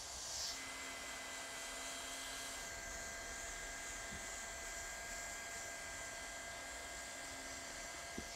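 A hot air welder fusing PVC roof flashing gives a constant, even blowing hiss with a steady whine, running unbroken throughout at moderate level and free of speech.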